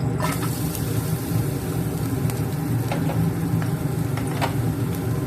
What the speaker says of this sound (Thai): แม่ย่าตั้งกระทะน้ำมันเรียบร้อยแล้วนะคะ เราก็จะเอากระเทียมลงไปนะคะ